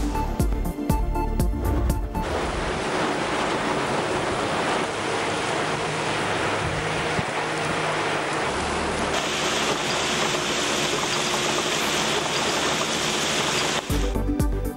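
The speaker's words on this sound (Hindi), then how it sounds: "पंजाब और खैबर पख्तूनख्वा में मूसलाधार बारिश।" Heavy monsoon downpour in Punjab and Khyber Pakhtunkhwa, a loud, dense, continuous roar of rain and rushing water with no voices, broken briefly by abrupt cuts near the start and end.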